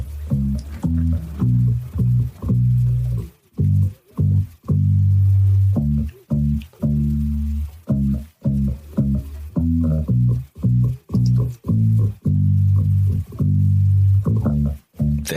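A man plucks a bass guitar with his thumb, producing round, deep notes in a bouncy, repeating rhythm with short gaps between phrases, clear and upfront.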